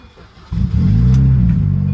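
A 2000s Mini Cooper R52 convertible engine cranks and catches after a jump start, a sudden loud start settling straight into a steady, close idle rumble.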